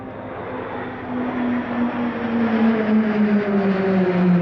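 Roulettes Pilatus PC-21 turboprops flying in formation at the Hunter Valley Airshow, a steady droning engine tone that swells and slowly drops in pitch as the aircraft approach from a distance.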